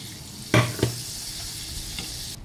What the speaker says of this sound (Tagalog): Maglagay tayo ng butter guys kasi pipritohin ko yung ating beef balls